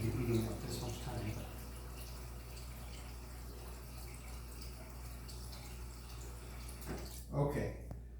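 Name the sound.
tap water filling a pet's water dish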